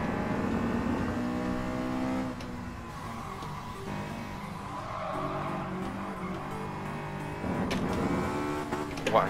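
Honda S2000 Japanese sports car in GT Sport, a high-revving engine climbing and dropping through gears with tire squeal and skidding through a corner, loud and continuous.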